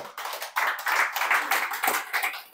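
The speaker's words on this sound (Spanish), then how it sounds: "Denle un aplauso al Señor." A church congregation at a Sunday service claps in a steady, fairly close patter of many hands, with a rhythmic, slightly uneven pulse throughout.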